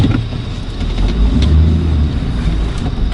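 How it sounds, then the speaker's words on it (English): A soft-top Jeep drives through rain in New York, its engine a steady low rumble under continuous road and rain hiss heard from inside the cabin, with no talking. "Gotta love the rain in New York with this soft cover Jeep."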